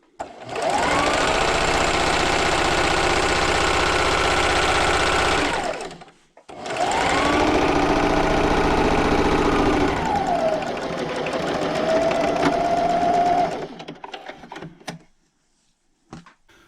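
Sewing machine straight-stitching fabric for a pet bandana with a 1/4 inch seam, a loud steady motor whir running in two long bursts with a brief stop between, then trailing off into quiet.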